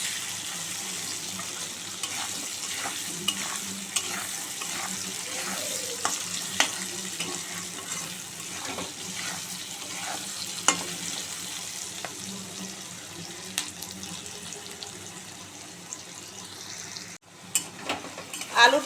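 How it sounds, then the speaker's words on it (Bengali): Potatoes and onions fry in a pan with a steady close sizzle, while intermittent stirring scrapes and light clinks recur throughout. "আলুটা একটু ভালো করে ভেজে নেব।"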